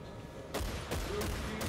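Gunfire from the Battlefield 1943 video game, a few sharp bursts of shots at regular intervals, fairly faint against a low background.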